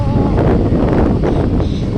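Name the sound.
strong wind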